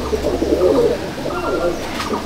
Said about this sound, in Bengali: আর পায়রা দুটো কালপোড়া কালদুম।